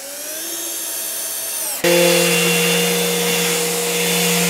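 A power drill drives screws into the wooden shelving of a workshop cart, its motor whining steadily and shifting to a lower, even drone partway through. It sounds close and fairly loud, with no talking.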